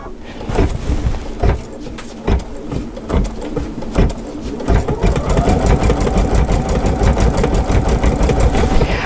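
An Altair or Meridian sewing and embroidery machine starts up and settles into a steady, fast mechanical stitching hum with rhythmic clatter, preceded by a few separate clicks and knocks, close and fairly loud.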